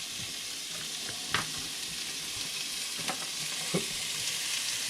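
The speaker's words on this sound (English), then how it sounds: "You want to hear that sizzle, guys" Onions and carrots sizzle in melted butter in a pot for chicken pot pie, a steady close frying hiss broken by a few scraping stirs, with no talking.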